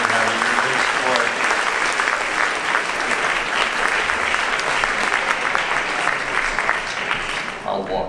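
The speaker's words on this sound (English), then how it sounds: "Let's give a wonderful lady a wonderful round of applause." An audience at a mentalist's stage show gives a thunderous, sustained round of applause. The clapping is loud, dense and unbroken, and it tails off slightly at the very end.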